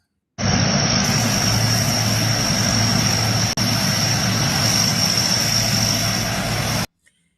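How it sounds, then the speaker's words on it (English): A propeller aircraft lands in the bush, heard as a steady loud engine drone with a high whine. It plays back from a video, holds constant for about six seconds and then cuts off abruptly. "how can this aircraft be seen landing in the bush?"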